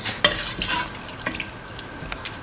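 Cumin rice mixture in a pot being stirred with salt: a few close, wet scraping and clinking strokes, followed by soft watery sloshing.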